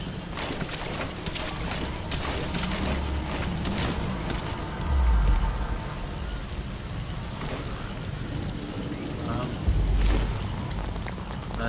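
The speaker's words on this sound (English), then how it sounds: "Sound of rainfall should help to mask your footsteps." Steady rainfall in the video game Metal Gear Solid V: The Phantom Pain, a continuous dense hiss of rain with occasional low rumbling swells, while someone talks intermittently over it.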